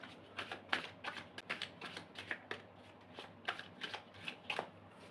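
Tarot cards shuffled and drawn by hand, with quick papery riffles and flicks in irregular bursts, close but soft, and no talk over them.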